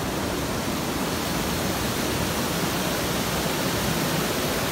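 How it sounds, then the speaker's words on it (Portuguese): A waterfall in Angelina, Brazil, roaring as a constant dense rush of falling water, loud and close, with no pauses or voices. "Misa, tá apreciando a cachoeira?"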